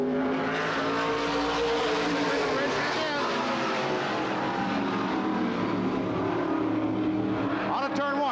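Race cars at Altamont Raceway roar out of turn 4 in a loud, continuous engine drone with shifting pitch as the pack passes, steady throughout.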